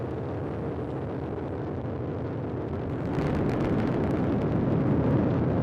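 A SpaceX Falcon 9 rocket with nine Merlin engines lifts off on the Crew 12 Dragon mission, a deep continuous rumbling roar heard from a distance that swells louder and grittier partway through.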